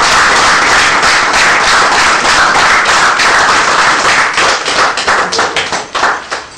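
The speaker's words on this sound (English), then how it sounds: "Please can I have a round of applause for them?" Applause from an audience at an evening gala, dense steady clapping that thins near the end into scattered individual claps.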